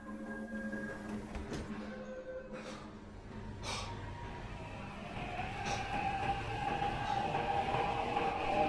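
Subway train pulling out of Sindaebang-dong station in a Korean horror film, a low rumbling roll with rising metallic squeal and scattered clunks, steady and moderately loud with no talk.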